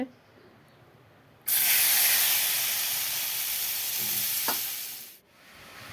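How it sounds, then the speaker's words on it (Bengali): Fish dropped into hot oil in a wok bursts into a loud, sustained sizzle that starts suddenly, holds for a few seconds, then cuts off, after near silence at the start. "এখানে কড়াই বসিয়ে দিলাম, মাছগুলো ভেজে নেই"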